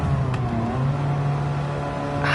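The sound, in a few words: droning car engine in Gran Turismo 7 video game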